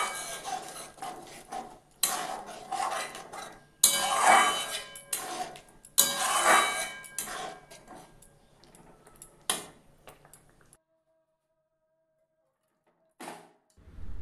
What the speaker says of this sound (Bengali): এখন আমি একটা বাটির মধ্যে এটাকে নামিয়ে নিলাম।